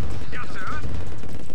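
Rapid gunfire rattles in the video game Command and Conquer Remastered, a loud, dense stream of shots and battle noise with a brief voice-like sound mixed in.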